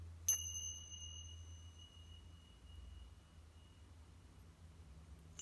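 A small bell with a string gives one faint, clear ding near the start, and the tone rings on for several seconds over a low hum in a quiet room.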